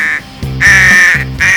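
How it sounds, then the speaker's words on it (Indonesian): A crow gives a series of harsh, raspy caws, loud and close, with short gaps between each call. "gagak berwarna hitam pekat dan suaranya yang serak dan parau terdengar mengerikan"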